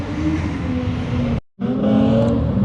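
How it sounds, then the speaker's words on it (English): A drift car engine at a Halloween drift contest at Evergreen Speedway revs hard and loud, cutting out abruptly for a split second before roaring back at high revs. "That thing sounds awesome."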